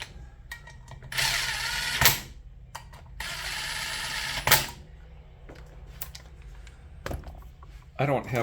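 Ratchet clicks in short bursts as water pump bolts are tightened on a 1975 Honda GL1000 Gold Wing, close and fairly loud, with quieter mechanical taps between and a brief spoken remark.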